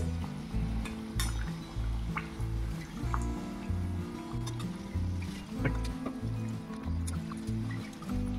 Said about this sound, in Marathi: अशा प्रकारे आपल्याला सँडविच तळून घ्यायचं आहे.